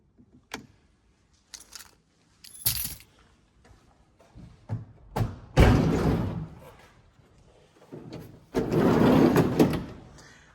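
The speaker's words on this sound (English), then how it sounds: "I open up this side loading door, because I need two hands to do it" Side loading door of a van being opened by hand, with a jangle of keys, a few clunks and thuds, and a long sliding rumble, close and loud with no talking.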